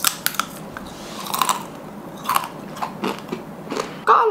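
Thin, crispy pumpkin vegetable chips are bitten and crunched up close, with several sharp crackling bites spread out between quieter chewing and a loud crunch at the end.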